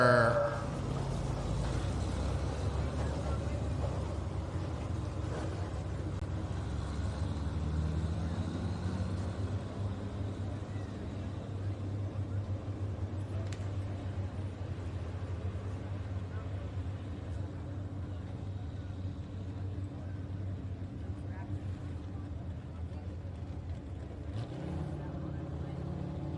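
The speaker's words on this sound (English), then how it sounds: "Next competitor coming out to the line from Georgetown, Pennsylvania with a John Deere 4020." A John Deere 4020 tractor at a tractor pull drones with a steady, loud low engine rumble for a long stretch, an announcer's voice heard over it.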